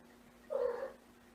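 A cat in a home hallway gives a single short, soft meow-like cry, faint against a quiet room hum.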